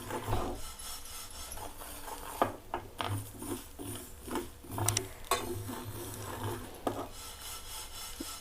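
Mustard seeds rattle and scrape against a pan as they are stirred while dry-roasting, with repeated rasping strokes and light tapping, no voices.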